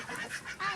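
Ducks out in snowy blizzard weather give short honking, nasal calls, three quick bursts in under a second, fairly faint with no voices over them.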